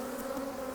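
Honey bees hum inside an opened hive during a colony inspection, a close, steady drone with a sustained low pitch and no other sounds.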